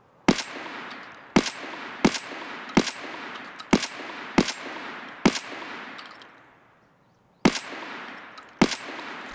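A Saiga 12 shotgun fires slugs in Escape From Tarkov: about nine sharp, loud single shots at uneven intervals, each with a short decaying tail, and a brief pause before the last few.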